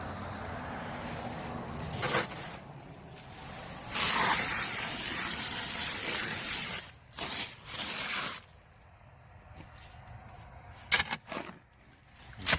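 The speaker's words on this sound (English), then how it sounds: "we're going to spray that down with a little bit of water" Water from a hose sprays down onto dry bagged concrete mix in a wheelbarrow during a flagpole kit installation, a steady hissing gush in bursts with short pauses, close and fairly loud, with no talking.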